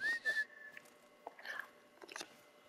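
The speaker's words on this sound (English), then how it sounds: "Why am I whistling?" A character in the Far Cry Primal video game gives a short, clear, close whistle at the start, followed by faint scraping and crunching noises.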